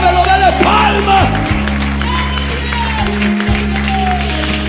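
A church congregation claps in praise alongside loud, sustained worship music, with voices and crowd noise running throughout.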